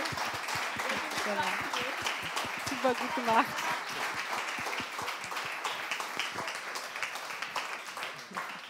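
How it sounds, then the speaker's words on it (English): Steady applause from a crowd continues throughout, with voices talking and cheering over it early on. "A big applause for everyone."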